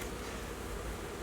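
Honey bees buzz around an opened hive with young brood and a feeder on top, a steady dense hum that stays faint and continuous throughout.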